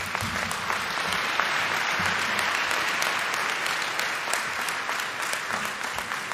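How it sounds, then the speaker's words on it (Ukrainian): At the RE:THINK Invest in Ukraine forum, a hall audience breaks into dense, sustained applause after a document is signed. The clapping is even and fairly loud throughout, with a few low murmurs underneath. "Оплески."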